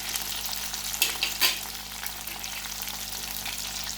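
Food fries gently in a pan over a low flame, a soft, even sizzle with a couple of brief louder crackling bursts early on and no voices.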